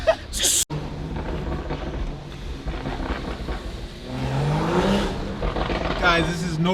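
A BMW M235i with a VRSF downpipe revs, its turbo spooling up in a rising whine amid loud exhaust roar and sharp pops, close by, with people talking over it.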